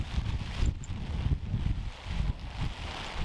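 Gusty wind buffets the microphone through a heavy rainstorm at a carp fishing lake in Normandy, a loud, continuous rumbling roar that swells and dips in waves.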